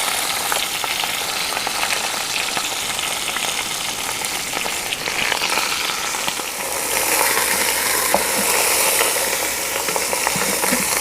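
A keto-friendly low-carb roast sizzles and browns steadily in a hot pan, producing a dense, continuous frying hiss that grows slightly fuller toward the end, close and loud with no one speaking.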